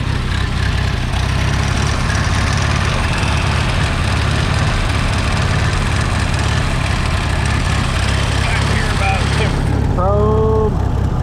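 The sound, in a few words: old 300 Utility engine running with a troublesome carburetor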